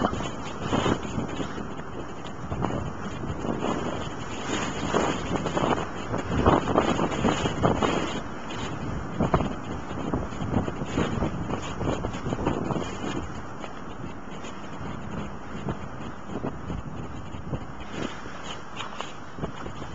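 Wind gusts across an outdoor campsite where a poncho tarp shelter is being set up, producing a continuous rough buffeting that swells and eases over twenty seconds, with some microphone rumble.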